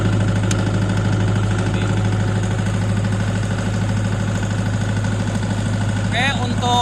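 A Multipro SDG 30000 genset with 22 kW output runs at a steady, close, loud drone, holding an even engine hum with no break for the whole stretch.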